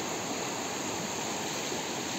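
Fast-flowing river water rushing steadily at a fishing spot where a new net is being cast, a dense, continuous broadband roar held at an even level throughout, with no voices over it.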